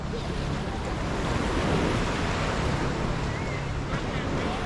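Sea waves wash onto Karon Beach in Phuket with a steady broadband rush, mixed with wind buffeting the microphone, loud and continuous with no clear breaks.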